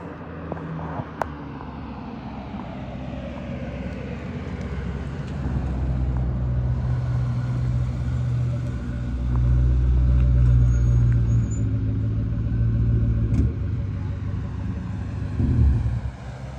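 An azure blue 2003 Ford Mustang Mach 1 approaches near a freeway underpass. Its deep engine rumble swells from a distant drone to a loud pass in the middle, then eases off.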